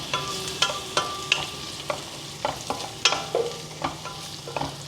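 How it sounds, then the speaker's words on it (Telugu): Ginger garlic paste fries in a pan under a spoon that scrapes again and again, a run of sharp stirring strokes over a low sizzle, close and fairly loud, with no speech. "కొంచెం అల్లం వెల్లుల్లి పేస్ట్ వేద్దాం, 1 స్పూన్. కలిపేసి అల్లం పచ్చివాసన పోయే వరకు 1 నిమిషం కలిపేసి"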